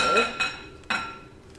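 A bowl set down and handled on a kitchen counter while preparing a microwave recipe, giving a few light clinks and knocks, fairly quiet with soft room noise between them.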